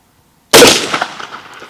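One sharp, loud gunshot from a rifle fired at a shooting range, a sudden crack after near silence followed by a decaying echo that rings out over about a second.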